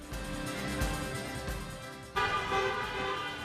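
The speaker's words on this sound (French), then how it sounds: "Ce sont les klaxons d'un mariage qui nous accueillent à Vico de Gargano" Car horns honk for a wedding in the hilltop town of Vico del Gargano, Apulia, a dense overlapping blare of several horns sounding continuously, loud and close, with a second burst joining partway through.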